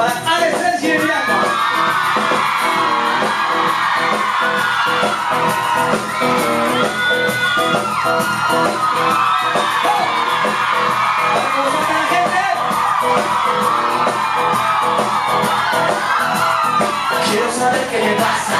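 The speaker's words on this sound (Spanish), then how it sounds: "Un fuerte aplauso para Alex Sirianco" Live audience at a performance erupting in loud, sustained cheering, yelling and whoops, with crowd noise filling the whole stretch of nearly twenty seconds.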